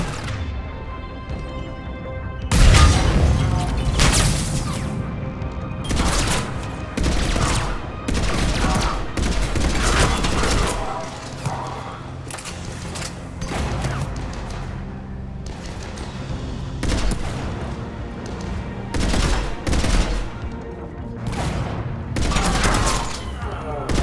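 Turret gunfire in the Mass Effect video game, with dense rapid bursts of shots and heavy impacts that roll on loudly and almost without a break after a quiet start, mixed with game effects.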